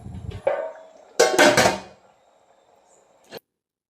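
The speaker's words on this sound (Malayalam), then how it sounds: "ചോറ് ഞാൻ ഇടയ്ക്കൊക്കെ ഇളക്കി കൊടുക്കുന്നുണ്ട് കേട്ടോ" A metal spoon stirring rice in a cooking pot on a home stove: a brief scrape, then a loud clattering burst of utensil against pot, followed by quiet and one final short clink.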